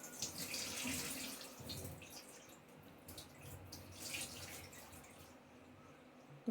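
Water runs from a household tap in a steady, soft stream, with faint splashing and a sharp bump at the very end.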